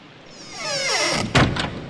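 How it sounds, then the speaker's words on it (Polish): A door in the horror game White Day creaking open with a rising, drawn-out squeal, then a solid thunk and a smaller knock as it settles, close and clear with no talking. "otwórzmy te drzwi"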